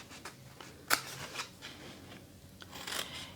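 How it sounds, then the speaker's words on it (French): Scissors snip through card while a Christmas compartment card is cut along a fold, giving a few faint, close cuts and rustles with one sharper snip near the start and no talking. "Donc on coupe jusqu'au deuxième pli."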